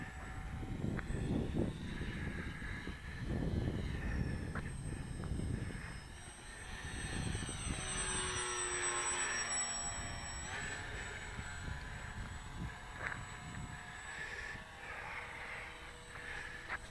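A Ju 52 airplane makes a full speed pass, its engine drone loud throughout and rising in pitch as it sweeps by, heard steadily across the whole stretch with no talk.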